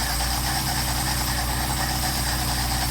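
A Mercedes 190SL engine runs at a steady idle on Solex carburetors, a loud, continuous, close rumble with no talking.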